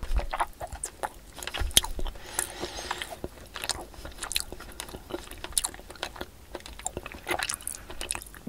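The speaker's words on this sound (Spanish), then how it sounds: "grabarse comiendo y en un plano secuencia y amplificando mucho el sonido de la masticación y de la comida" Close, heavily amplified chewing and crunching of food, recorded for ASMR eating, with dense wet bites and crisp crunches repeating irregularly throughout.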